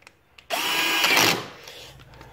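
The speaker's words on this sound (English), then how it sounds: "lining up the screws, getting them all back in" A power drill runs in one steady burst of about a second, driving screws back in during reassembly of a wheeled machine, loud and close against an otherwise quiet room.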